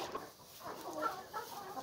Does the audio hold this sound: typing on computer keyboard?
no